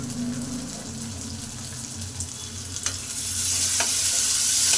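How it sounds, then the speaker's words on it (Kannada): Tomato frying in oil over browned onion, garlic and curry leaves, a constant close sizzle that swells louder toward the end, with a couple of brief scrapes of stirring and no talk. "ಟೊಮೆಟೊ ಹಾಕಿ ಫ್ರೈನ ಮಾಡ್ಕೊತೀನಿ"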